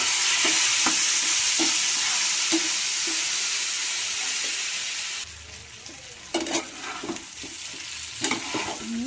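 Chow mein with tomato and sauce being stirred in a hot pan, loud steady sizzling with scraping strokes of the spoon, the frying settling quieter partway through as stirring continues.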